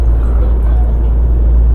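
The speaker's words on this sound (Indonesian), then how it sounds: "ini truk trailer ya" A trailer truck rumbles past close by on a road between Probolinggo and Lumajang, a steady deep engine roar filling the whole stretch with no gaps.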